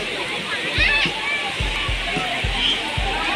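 Water rushes steadily at Tirathgarh waterfall, a constant roar close by. Soft thumps and splashes recur through it, and people can be heard talking faintly in the background.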